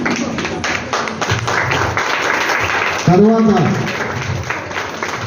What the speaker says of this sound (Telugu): గట్టిగా చప్పట్లు.